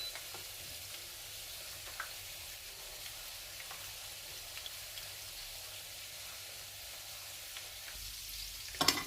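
Plantain slices frying in hot oil on lowered heat, giving a soft, steady sizzle that holds evenly throughout, with a small clatter at the very end.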